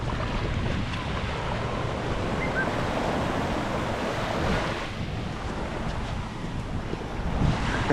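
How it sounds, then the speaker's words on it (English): Calm sea lapping on the beach at Scarborough seafront, a steady soft wash of surf mixed with wind buffeting the microphone, no voices. "look how calm the sea is"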